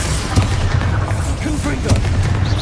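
Loud Confringo explosive spells go off in the game Hogwarts Legacy, producing heavy booms and sharp cracking bursts in quick succession, with a voice talking over part of the action.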